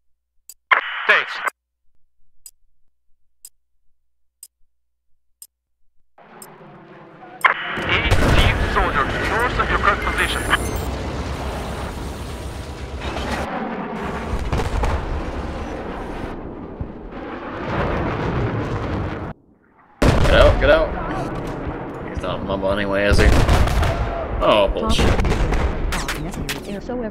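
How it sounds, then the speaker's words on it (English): Heavy Battlefield 4 gunship support fire during a Golmud Railway match: sustained loud booming bursts and rumbling gunfire fill most of the stretch, with a brief pause near the end before resuming, under game radio chatter. "Gunship support coming in."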